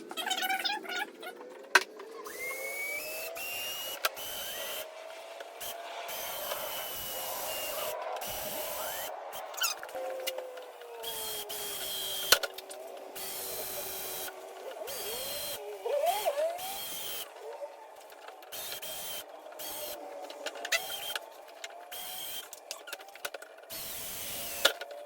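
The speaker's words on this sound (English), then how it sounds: "now I'm gonna go ahead and drill the holes" Power drill boring holes for a Hellcat-style rear spoiler on a 2006-2010 Dodge Charger: a whining motor in repeated bursts with brief stops, moderately loud over faint background noise.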